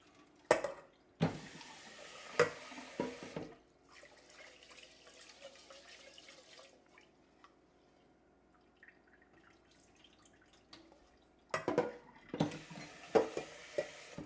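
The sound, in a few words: rinsing rice with running water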